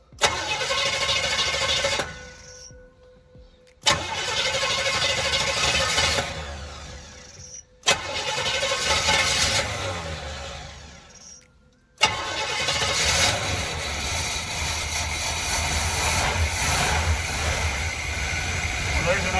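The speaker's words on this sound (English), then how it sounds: "Let's see if we can get this thing to rev up and idle." A 1981 GMC Sierra truck engine cranks loudly and close in three separate bursts with brief pauses between, then catches and settles into a steady, rough idle.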